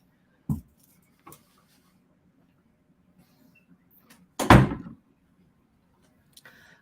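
A bathroom door shuts in a quiet room: a sharp thump, a lighter knock, then a louder, heavier bang a few seconds later, with a faint tap near the end.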